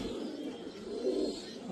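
Pigeons cooing in a loft or coop, a low steady murmuring coo close by with a slightly stronger phrase near the end, no talking.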